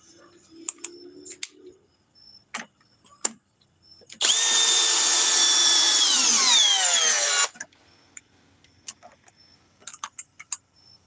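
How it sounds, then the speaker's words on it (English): A Harbor Freight Hercules drill driver whirs at full speed for about three seconds, loud and close, with its pitch gliding down before it stops, among scattered clicks and handling taps. "31 foot-pounds, the Harbor Freight Hercules drill driver."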